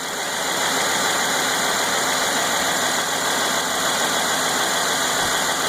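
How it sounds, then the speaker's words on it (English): A Mercedes car engine idles steadily as it warms up, a continuous loud mechanical hum with faint ticking texture and no pauses, heard alone without voices. "it's just that it's idling it down"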